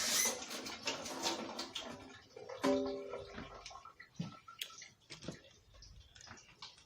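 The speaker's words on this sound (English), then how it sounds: "Let me wash my hands off" Hands are washed under running water at a kitchen sink, with splashing and rinsing mixed with clicks and clatter from the counter. The sound stays fairly close and moderately quiet.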